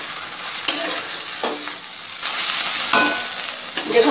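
Snake gourd and egg bhujia stir-frying in a pan: a steady, bright sizzle broken by several scraping stir strokes at irregular intervals, close by and with no talking.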